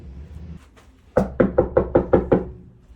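Seven sharp knocks on a door in a quick, even rhythm, close and loud, following a quiet moment with a few faint taps.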